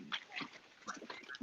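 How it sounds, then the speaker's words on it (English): A dog gives a series of faint, distant yips and whimpering barks, scattered irregularly through a quiet room. "I think there might be a dog or two that's about to start barking."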